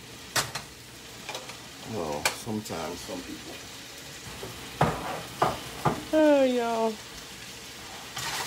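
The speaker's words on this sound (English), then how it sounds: "Whisk that well to make sure that red curry paste is really fully incorporated." Red curry paste being whisked into vegetables in a pan for Thai red curry vegetables, soft scraping stirs and a low sizzle with a voice talking intermittently over it.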